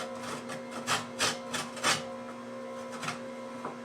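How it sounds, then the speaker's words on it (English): Ginger root has its skin scraped off in a handful of short rasping strokes, fairly close but soft, over a steady low hum. "So I'm just going to go ahead and do a little bit of scraping on it while I can."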